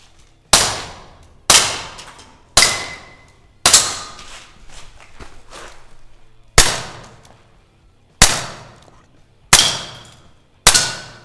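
Beretta M84FS pistol shots at an outdoor shooting test: eight sharp, loud reports at irregular intervals, each with a short decaying echo, with faint movement between them.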